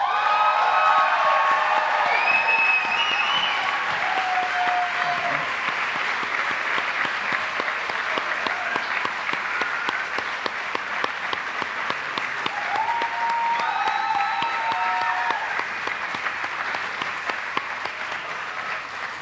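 A crowd at a staff recognition celebration gives sustained, dense applause for an honoree during a photo pause, with a few scattered cheers, the clapping holding steady and fairly loud for the whole stretch.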